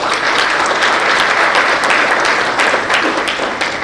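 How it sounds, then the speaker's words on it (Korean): A lecture audience at a breakfast talk gives loud, warm applause to welcome the university president, dense continuous clapping that holds evenly from start to finish with no talk over it. "뜨거운 환영의 박수를 부탁드리겠습니다"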